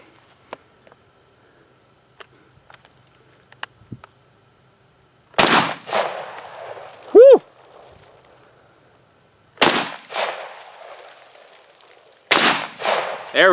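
A Chinese SKS bullpup rifle fired at glass outdoors, three sharp, loud shots several seconds apart, each with a short echoing tail, over quiet background with faint clicks and a brief whistling tone.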